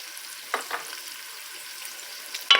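Onion being added to marinated ground beef frying in a pan for an eggplant and beef dish, with a soft steady sizzle and a few brief stirring clatters, no talking.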